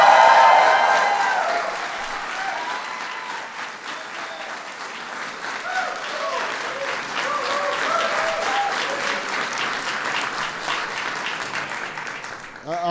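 Loud, sustained applause from a large audience welcoming Speaker Nancy Pelosi at a 2010 Asian Pacific American Heritage Month event with President Barack Obama, with some cheering and indistinct crowd voices mixed in as the clapping carries on steadily.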